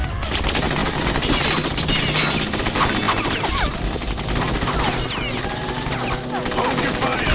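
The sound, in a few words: gunfire in the video game Metal Gear Solid 2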